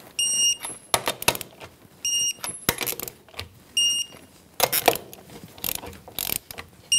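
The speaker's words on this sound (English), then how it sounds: "We'll torque our wheels." A torque wrench tightens the wheel lug nuts on a 2013-2018 Toyota RAV4 with a 21 mm socket, giving repeated bursts of fast ratchet clicking, each ending in a sharp click, with high whistling tones between pulls.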